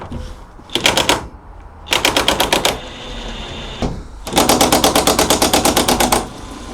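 An impact wrench undoes the seat bolts in a Fiat Ducato campervan, firing three loud, rapid rattling bursts separated by short pauses, the last burst the longest.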